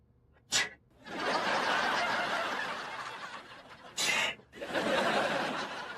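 A person sneezes twice, sharp bursts near the start and again a few seconds later, set against a loud, noisy background wash in a domestic comedy scene.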